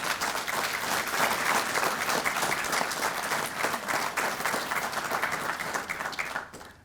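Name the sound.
audience applause for promoted police sergeants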